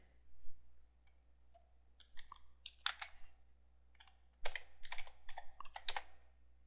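Keys clatter on a computer keyboard while account details are entered to activate a free web hosting account, the typing coming in short irregular bursts of clicks with brief pauses between them, close and fairly quiet in a still room.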